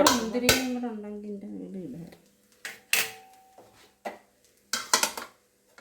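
Ghee is stirred into pulao in a pot, the spoon giving several sharp clanks and taps against the metal after a stretch of nearby talking.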